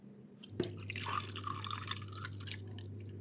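Water poured from a glass into pizza dough in a home kitchen, one sharp splash followed by a soft, steady trickle and drip close by, with a constant low hum underneath and no talking.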